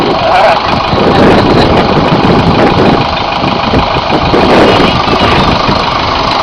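A sugar beet harvester's engine runs loud and close while it unloads beets into a wagon, a continuous heavy rumbling drone with speech heard over it.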